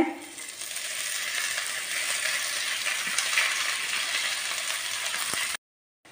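Onions frying in olive oil in a home kitchen, a steady broadband sizzle with faint crackles holding close and even throughout, then cutting off abruptly near the end.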